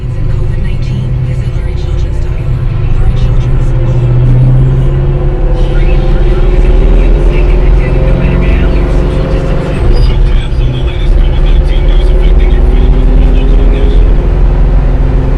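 1971 Chevrolet Nova SS350 on a road test drive, a steady low V8 rumble heard from inside the cabin with road noise, loud and continuous, with someone talking over it.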